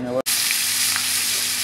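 Freshly caught fish fry in a pan with a loud, close, continuous sizzle of oil, preceded by a brief voice and a sharp cut into the steady hiss.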